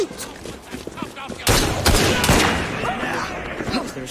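Gunfire in the video game Assassin's Creed Syndicate breaks out in a loud cluster of sharp shots after a brief stretch of talk, with voices continuing around the blasts.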